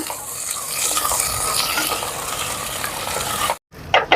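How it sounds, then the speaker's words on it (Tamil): Small onions and green chillies sautéing in a pan on a home Jaffna stove for dried Maldives fish, a steady close sizzle with stirring scrapes that cuts off briefly near the end before resuming. "சின்ன வெங்காயம், இதெல்லாம் வதங்கட்டுக்கா"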